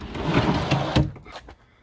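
A plywood drawer in a campervan conversion of a Holden Commodore slides open and shut on its runners, producing a close, rumbling scrape that ends in a soft knock before fading.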